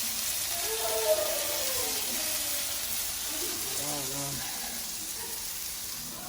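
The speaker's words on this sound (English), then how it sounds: "Let's put this just to saute a little bit here" Onions sauteing on a coal pot while Trini-style chicken burgers are made, giving a steady, even sizzle and hiss throughout, with faint background voices.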